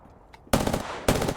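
Two loud, close bursts of rapid automatic gunfire in Apex Legends, each a short rattling volley, separated by a brief gap.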